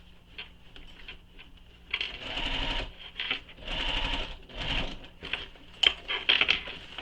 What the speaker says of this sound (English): sewing right on top of those stitches I previously had where I ripped out